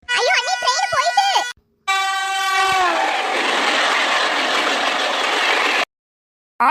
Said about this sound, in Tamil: ஐயோ அண்ணி ட்ரெயின் போயிட்டு.